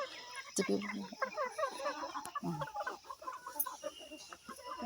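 Local-breed hens cluck in short, busy bursts throughout, with a voice speaking over the farmyard chatter.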